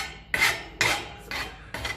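Hand file rasping burrs off a hard metal exhaust pipe for a 1954 Ferguson 20 TEF diesel tractor, four distinct scraping strokes in a steady rhythm, close and loud with brief pauses between.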